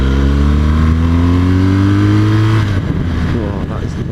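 A BMW R 1200 GS motorcycle engine hums close by, its pitch rising gradually over a few seconds, then dropping off into a rougher idle. It is loud and heard on its own.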